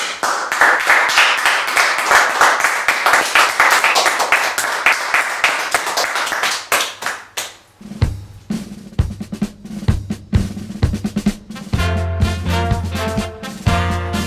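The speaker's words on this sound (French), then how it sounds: "Tout le monde applaudit." Studio audience of a television game show applauding, dense close clapping for several seconds that fades out and gives way to a musical jingle.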